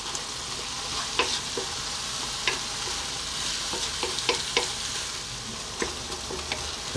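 Chili con carne beef mince sizzles steadily in a pan over lively heat, with a constant broadband fry and scattered sharp clicks and scrapes from stirring, close and fairly loud with no talk.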